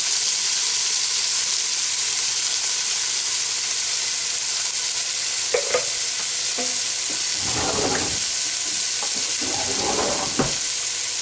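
Drained canned peas, carrots and corn cooking in a pan, a steady sizzle and hiss with bursts of stirring and scraping toward the end.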